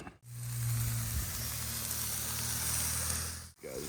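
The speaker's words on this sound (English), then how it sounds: "just put a little butter on the griddle and see how they cook" Dryad's Saddle mushrooms sizzle in butter on a hot griddle, a steady bright crackling hiss over a low hum, continuous for a few seconds between brief gaps, close and fairly quiet with no talking.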